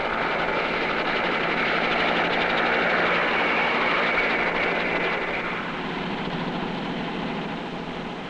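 A United States military helicopter engine drones steadily at a moderate distance, a broad whirring roar that fades slightly toward the end, 1960s.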